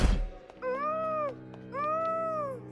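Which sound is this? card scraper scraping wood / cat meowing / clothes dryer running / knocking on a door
cat meowing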